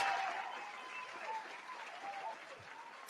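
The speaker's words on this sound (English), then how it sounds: "That's applause." Soft, distant applause forms a steady hiss of clapping hands on a podcast, low in level and fading out near the end.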